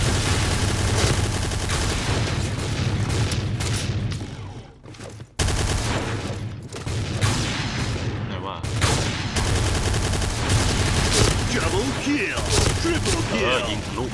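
Noveske N4 rifle fire in the shooter game Point Blank: dense, loud bursts of rapid shots that run almost nonstop, with one short pause, under a player talking.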